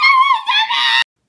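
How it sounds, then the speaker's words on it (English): A person screams loudly in a shrill, wavering burst of about a second that breaks briefly in the middle, then stops dead into silence. "I will stop screaming."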